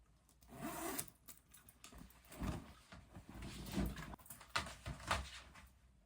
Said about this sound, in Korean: 이거 투웨이 지퍼네요